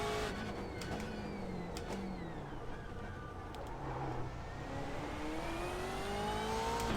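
A race car engine in the iRacing sim racing game at Nürburgring, revving and shifting with rising and falling whine tones, steady and moderately loud, with no talking over it.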